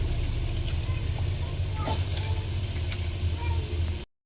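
Curry sizzles steadily in a pan during cooking, a continuous dense frying hiss at moderate loudness with a few faint clicks, cutting off abruptly at the end.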